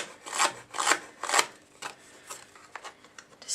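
A handheld cutter tool's distressing edge scrapes along the edges of a paper graduation card in short, close, rasping strokes, each stroke a brief soft scratch with small pauses between.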